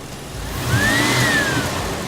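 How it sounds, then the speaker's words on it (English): A car engine revving after a Seafoam treatment, rising and holding at higher revs with a steady mid-range drone and a thin whine climbing then falling, fairly close and without talk. "It's got to get the revs high enough."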